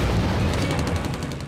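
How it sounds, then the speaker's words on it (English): Machine gun emptying a full drum of rounds into the stern of a zeppelin airship, heard as a dense, continuous rattle of rapid gunfire lasting the whole moment, loud and close with no talking. "emptying the whole drum of bullets into the stern"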